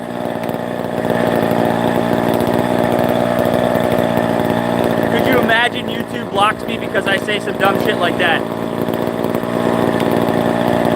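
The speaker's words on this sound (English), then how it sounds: "I'm working on a chainsaw, I'm letting it run." A chainsaw engine drones steadily throughout, loud and close, with someone talking over it in the second half.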